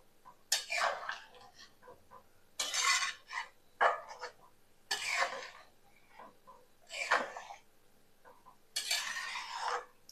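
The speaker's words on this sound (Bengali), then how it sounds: "চিনি দিয়ে একটু নাড়িয়ে দেব।" Sugar being stirred into a pot, a spoon scraping and clinking against the metal in short repeated bursts separated by brief pauses, close and fairly quiet.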